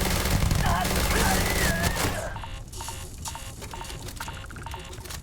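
Rapid gunfire from the player's gun in the video game Starfield bursts loud and dense for about two seconds, then drops to a softer background of game noise with faint tones.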